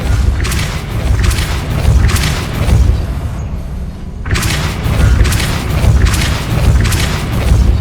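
A Depulso spell cast in the Hogwarts Legacy video game on PS5, heard as loud, deep, rumbling booms with repeated thudding blasts and a brief drop to near quiet midway.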